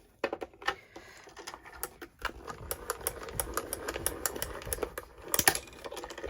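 A small Crafters Companion Gemini Mini die-cutting machine runs, pressing a cutting sandwich through with a busy stream of rapid clicks and whirring mechanical ticks, close and moderately loud.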